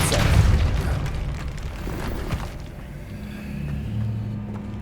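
Depulso force spell cast in Hogwarts Legacy, a dense low boom and burst opening loud, then fading into a rumbling wash of game ambience.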